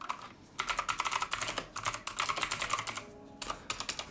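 Rapid typing on an E-Element K-9999, a cheap mechanical gaming keyboard, with close, crisp key clatter in steady bursts and a brief pause before resuming.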